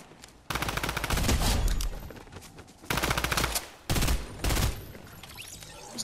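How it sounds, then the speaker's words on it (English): Bursts of gunfire in the Fortnite Reload video game, loud rapid volleys of shots in several clusters separated by brief lulls, with no talk. "There's actually a lot of shots in here."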